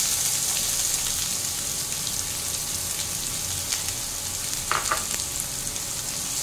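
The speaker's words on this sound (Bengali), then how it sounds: "পেঁয়াজটাকে এবার আমি ভালো করে ভেজে নেব" Chopped onion frying in oil keeps up a steady, close sizzle, broken by a couple of brief clinks and scrapes from stirring partway through.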